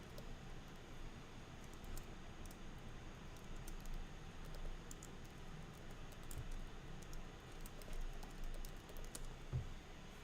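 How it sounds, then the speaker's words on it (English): Rapid, continuous typing on a computer keyboard, a quiet stream of dense clicks and taps over low room noise with no talking. "I'm really just typing like an ape, like an actual ape."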